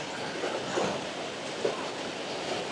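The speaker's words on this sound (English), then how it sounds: "So this is waterfall number 3" A waterfall made up of a series of cascades on a hiking trail in Welsh waterfall country roars in a broad, steady rush of water, fairly loud and constant.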